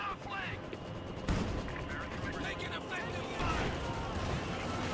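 Heavy .50-cal machine gun fire rattles through a Company of Heroes 2 3v3 battle: steady bursts and shots blend into dense battlefield noise, with commentators talking over it throughout.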